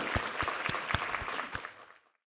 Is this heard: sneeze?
no